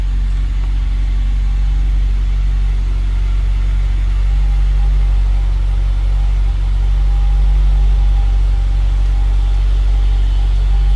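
A 2019 Mazda MX-5 Miata Club convertible idles steadily, a smooth, even low engine hum holding unchanged throughout with no revving and no voices over it.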